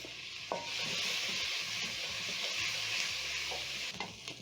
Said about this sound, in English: Cook the onions until they have a very lovely golden brown color